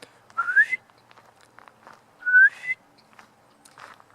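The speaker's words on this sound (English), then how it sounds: "off to my right somewhere, I keep hearing this whistling" Two rising whistles sound in a quiet forest in Washington State, each a clear upward-sliding tone about two seconds apart, fairly distant, with faint rustles and footsteps in between.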